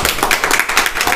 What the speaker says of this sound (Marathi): त्यांचं एकदा जोरदार टाळ्यात स्वागत करा